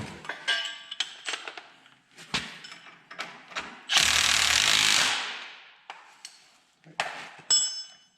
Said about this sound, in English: Get these tightened down.